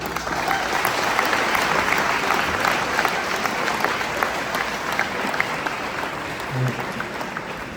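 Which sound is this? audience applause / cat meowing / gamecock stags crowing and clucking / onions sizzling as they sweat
audience applause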